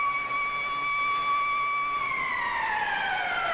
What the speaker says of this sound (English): here's the siren at the forum